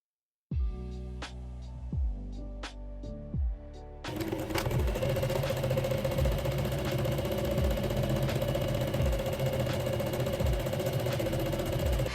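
A sewing machine stitches a dress's center back seam, first a few slow hand-turned clicks, then a steady, close, continuous run of rapid stitching.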